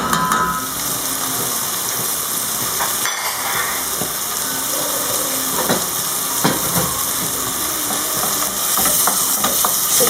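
Bulgur with lamb, carrot and a spoonful of tomato paste is stirred in a hot pot, giving a loud continuous sizzle and hiss with scraping spoon strokes throughout.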